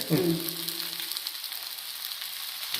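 A masala roti fries in oil in a pan, sizzling steadily and fairly loudly from start to finish, with a brief low voice at the very beginning.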